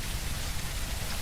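Steady rain pours down across a zombie-apocalypse survival game world, a dense, even hiss of drops on surfaces that holds constant throughout with no talking.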